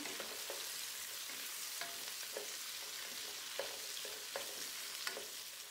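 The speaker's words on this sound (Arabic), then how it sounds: "بعد التوم حنضيف الحمص وبرجع بحركهم مع بعض" Garlic and chickpeas frying in a pot, stirred with a utensil: a steady sizzle throughout with repeated soft scraping strokes, close and moderately loud, no voices.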